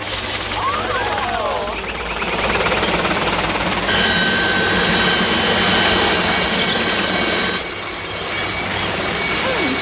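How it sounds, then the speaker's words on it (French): A helicopter flies low over a residential area, its loud, steady rotor chop and turbine whine filling the air, with voices speaking underneath. "J'interdirais moi aux hélicoptères de survoler les zones résidentielles"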